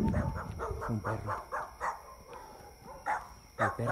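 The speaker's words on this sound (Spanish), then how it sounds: "Un perro." A dog barks repeatedly in a rhythmic series of sharp, fairly loud barks near a ravine with cornfields, with faint background noise between the barks.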